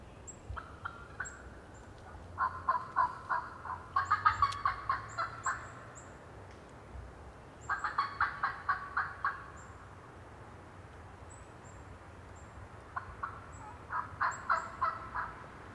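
Wild turkey toms gobble in a field, several rapid rattling bursts repeating every few seconds at moderate distance, with fainter high calls scattered between and no talking.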